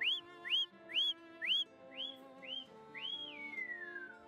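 A person whistles with a mouthful of sweetened chickpea powder, giving a series of short rising whistles, then one longer note that slides downward, close and fairly clear.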